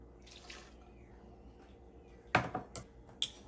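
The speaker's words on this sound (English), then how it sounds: "Now I'll get my 2/3 cup of water," Water being poured from a measuring cup into a bowl of Betty Crocker lemon poppyseed muffin mix, a few short splashy bursts and clinks over quiet kitchen background.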